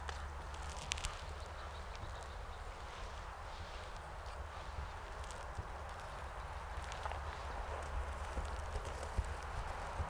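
A horse canters on a circle in a dressage arena at a clinic, its hoofbeats giving a faint, distant, steady three-beat thud over a constant low background hum.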